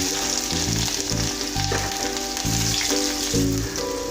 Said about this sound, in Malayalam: ഇനി നമുക്ക് കടുക് ഇട്ട് കൊടുക്കാം.